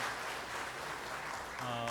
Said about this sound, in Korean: 박수로 하나님께 영광을 돌리겠습니다.